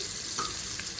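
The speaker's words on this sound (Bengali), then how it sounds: "প্রথমে দিয়ে দিলাম পেঁয়াজ" Onions fry in oil in a pan, a brief close sizzle with a couple of light clinks or stirring touches over the steady hiss.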